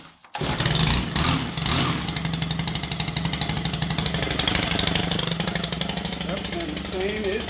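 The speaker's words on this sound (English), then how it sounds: "And the chain is spinning." Stihl HT 133 pole saw engine buzzing loudly at close range after starting, its two-stroke drone steady with the chain spinning. Voices talk over it briefly.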